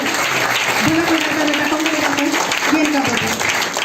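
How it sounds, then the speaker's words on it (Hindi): A congregation at a Christian testimony gathering breaks into vigorous applause, dense continuous clapping with a voice calling out over it. "जोरदार ताली जिंदगी बदलने की"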